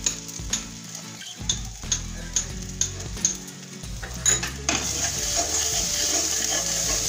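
Spice paste with turmeric and salt sautéing in a pan, a bright close sizzle under rhythmic clinking spoon strokes against the metal, the frying swelling louder toward the end, no voices.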